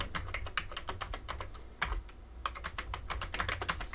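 Rapid clattering keystrokes on an old Amiga computer keyboard, close and fairly steady with a brief pause midway, with no talking.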